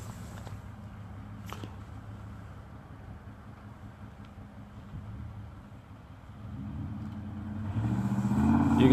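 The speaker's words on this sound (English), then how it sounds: "You can see lines and lines of cars coming down that hill." Lines of cars rolling down a hill at night during the Standing Rock gathering, a distant, muffled traffic rumble that gradually builds into louder, nearer engine noise toward the end.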